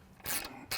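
A ratchet snugging the turbo support bracket bolts on a Harley-Davidson Sportster, two short close clicking bursts of the pawl in under a second, faint and with no one speaking.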